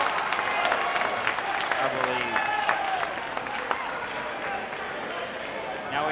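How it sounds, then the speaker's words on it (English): A basketball crowd at a North Greenville vs. Barton college game cheers and claps loudly, with a commentator's voice running over the roar throughout. "You can hear the crowd's anticipation building up"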